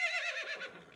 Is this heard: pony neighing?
yes